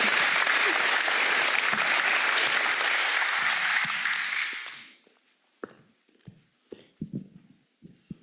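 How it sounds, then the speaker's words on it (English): A courtroom audience at a Kansas Supreme Court travel docket session in Logan applauds in a dense, loud burst for about five seconds, then it fades out into scattered soft taps and shuffling. "May we give her a round of applause as a thanks today?"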